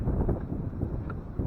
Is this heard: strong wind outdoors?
yes